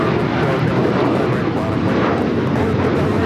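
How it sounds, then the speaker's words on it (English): An Alaska Airlines Boeing 737-900ER takes off at LAX, a loud steady jet roar that fills the whole clip with dense broadband noise and no letup, with a voice faintly mixed in. "Alaska Airlines 1374 taking off to Loretto on the 737-900ER"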